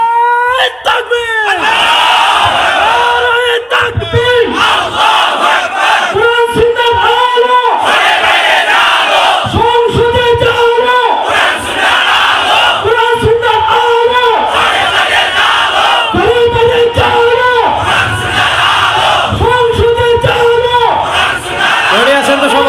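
A large crowd at an outdoor Islamic sermon gathering chants a religious slogan in loud, rhythmic unison, repeated call-and-response bursts rising and dropping throughout, with an amplified leader's voice driving each round.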